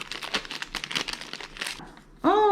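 Packaging for a Cardo Freecom 4+ Duo motorcycle intercom crinkles and rustles up close in quick irregular bursts while it is unboxed, ending in a brief voiced sound.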